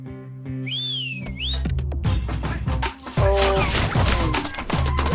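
Shrill whistling rises in sweeping, swooping tones inside a busy cinema, followed by a loud, dense wash of crowd noise and music with further whistles cutting through.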